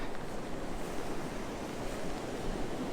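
Big ocean waves break and roll in at Myrtle Beach, a constant loud surf roar with some wind buffeting on the microphone and no speech.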